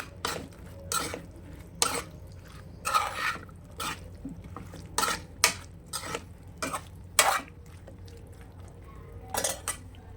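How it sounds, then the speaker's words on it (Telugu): Brinjal, drumstick and tomato curry pieces are stirred in a pan with a metal spoon, giving a series of close, sharp clinks and scrapes against the pan in an uneven rhythm. "ముక్కలంతా కలిసేలా కలుపుకోవాలి."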